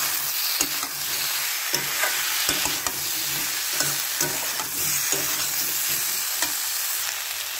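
Chili, cumin and coriander powder being stirred into eggplant frying in a pan, loud continuous sizzling with repeated scraping strokes of a spoon against the pan.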